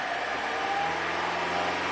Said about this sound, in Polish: daliśmy troszeczkę więcej gazu